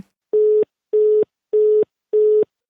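A telephone busy signal sounds after a radio station's number is dialed: four evenly spaced, loud, steady tone pulses with short silent gaps between them, heard alone.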